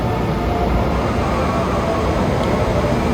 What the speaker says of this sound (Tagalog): yung train ng MRT